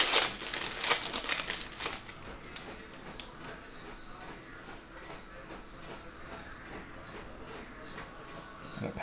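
Foil wrapper of a 2021-22 Prizm NBA hobby basketball card pack being torn and crinkled open close up, loudest in the first two seconds, then quieter rustling and handling of cards.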